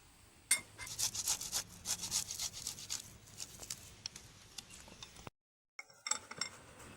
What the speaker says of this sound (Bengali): আলুটাকে একটা গ্রেটারে গ্রেট করে নেব।